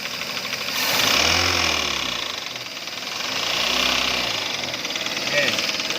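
Engine knocking from a Toyota Avanza with a 3SZ engine held around 2,000 RPM, a steady mechanical rattle over the running motor that swells and eases in two broad surges, with talk heard over it.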